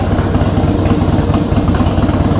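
A 2003 Harley-Davidson FXST with drag pipes idles loud and close, its engine giving a steady, rough rumble with a throbbing pulse and no voices over it.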